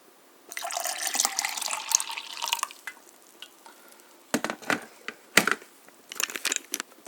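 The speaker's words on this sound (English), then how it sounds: "pour in the water." Water is poured into a container of Nestea iced tea mix for a carbonated drink, giving a bright, splashy gush for about two seconds, followed by several short, sharp splashes and clinks close by.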